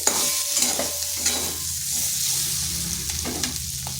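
Spiny gourd (kakrol) frying and being stirred in a pan, a continuous close sizzle with scraping stirs and occasional sharp clinks, no talking.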